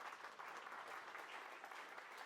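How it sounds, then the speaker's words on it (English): An audience at an M&A business forum applauds speaker Sam Goodner with a steady, continuous round of clapping, heard at low level throughout. "one more big round of applause"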